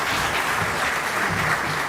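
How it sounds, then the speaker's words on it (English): An audience at a broadcasting awards ceremony gives a brief, dense round of applause, steady and fairly loud from start to finish. "A round of applause for Ms. John."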